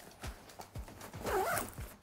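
A backpack zipper is pulled open or shut on a travel backpack with an anti-theft zipper on the back. It makes several quick, close rasping strokes in a rhythmic series that run for about two seconds.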